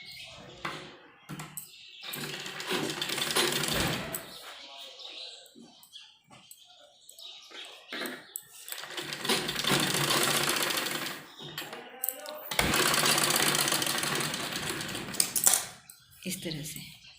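A sewing machine stitches the shoulder seam of a baby frock in two long, steady runs of rapid mechanical whirring. It starts and stops between the runs, with someone speaking in the pauses.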